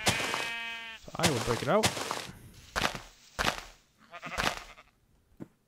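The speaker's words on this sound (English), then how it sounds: "And there's a sheep." A Minecraft sheep gives one short, clear bleat at the start, followed by close talking.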